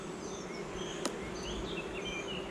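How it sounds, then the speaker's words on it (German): Honeybees hum in a steady, dense drone at an opened beehive during an April hive check. The swarm sounds close and continuous, with no talking. "Hier sind schöne Baubienen,"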